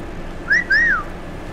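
A person tries to whistle, producing two short, wavering whistled notes, the second rising then falling, amid quiet background noise.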